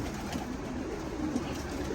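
Racing pigeons in a loft coo softly and continuously in a low, muffled murmur close by, with no talking.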